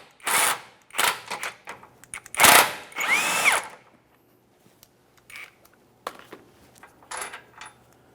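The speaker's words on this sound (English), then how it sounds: "Along the bottom, I'll just continue on with removing the bolts." A power tool spins out lower control arm bolts on a 2017-2024 GMC Acadia, with several short loud whirring bursts, ratcheting rattles and a clink of hardware, then quieter bursts after a pause.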